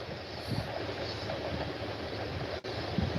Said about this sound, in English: there's our train right on time for our video.